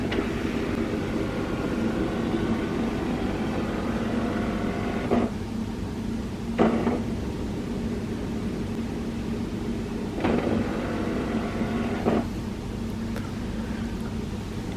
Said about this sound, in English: It is scanning the first side of the ID card.